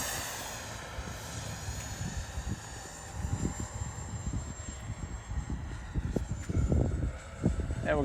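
An H-King Viper64 RC jet with a 64 mm ducted fan flies overhead with a faint, distant whine that drifts in pitch, under wind buffeting and scattered low thumps.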